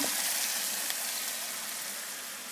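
Marinated masala chicken hits a hot pan and fries with a loud, dense sizzle, close and continuous, easing slightly in level over a couple of seconds.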